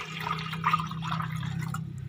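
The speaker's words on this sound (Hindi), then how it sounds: "अब बर्तन में पानी डालें," Water trickles and splashes into a pot over a low steady hum, a close, fairly quiet pouring sound.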